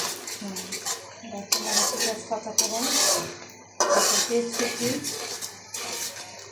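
Onion fries with cinnamon and cardamom in a pot while a utensil stirs, scrapes and clinks against the metal in close, busy bursts, someone talking over the cooking.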